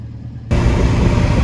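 Ford Anglia with a swapped 1600 crossflow engine and new exhaust, driving, its engine suddenly bursting into a loud, close, rumbling roar after a quiet half second and holding steady.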